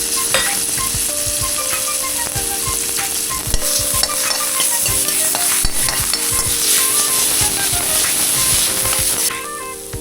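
A ground chili, garlic and ginger paste fries loudly in oil, crackling continuously while a utensil scrapes and taps the pan, and soft background music plays underneath.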